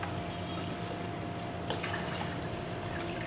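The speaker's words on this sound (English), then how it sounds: "try again pouring some water to simulate pump 2 operation again" Water is poured into a sump pit during a pump-control test, giving a quiet, steady pouring and trickling wash with a few soft splashes, heard alone.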